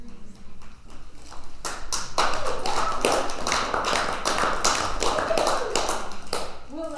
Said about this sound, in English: We'll let them know you clapped.